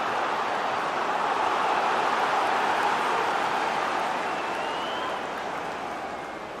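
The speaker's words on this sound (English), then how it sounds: "the crowd are up for this" A stadium crowd in the EA FC 24 football game, Premier League match Bournemouth versus Everton, roars steadily as a corner kick approaches, a dense sustained cheer that eases slightly toward the end.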